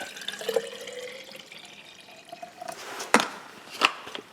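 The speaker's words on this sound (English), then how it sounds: "Go ahead and take a jar, put some water in it." Water trickles and splashes into a container, with a gurgling tone and a couple of sharp clinks of glass near the end.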